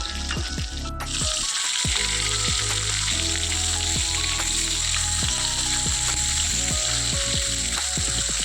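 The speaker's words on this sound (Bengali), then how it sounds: "আর এদিকে মাছগুলো ভাজছিলাম" Fish frying in a pan alongside onions being charred for a mashed side dish, a loud, steady sizzle with crackling spatters running throughout, with no talking.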